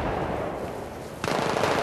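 Rapid automatic gunfire from the video game Battlefield 3 rattles in a dense, continuous burst, growing louder and sharper partway through, with no talk over it.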